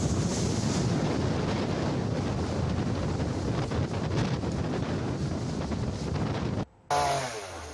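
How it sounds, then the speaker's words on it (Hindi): Strong wind and high waves at sea during Cyclone Yaas at Digha, a loud continuous roar of gusting wind and surf buffeting the microphone, cut off by a brief dropout near the end. "तेज लहरें हिलोरे मार रही हैं और ऊंची ऊंची लहरें अब उठ रही हैं"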